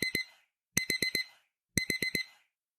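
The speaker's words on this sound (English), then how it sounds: "the alarm is just going to go off with a beep sound" A BlindShell Classic 2 phone's timer alarm sounds in bursts of quick electronic beeps, two, then four, then four, each group separated by short silences, clear and close.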